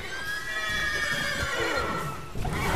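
A horse in The Witcher video game whinnies in a long, shrill neigh that falls in pitch, followed by a shorter neigh and faint hoof clopping.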